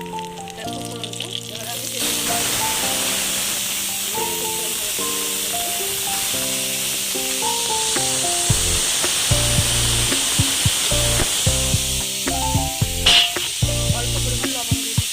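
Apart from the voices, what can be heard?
split green chilies and black cumin frying in oil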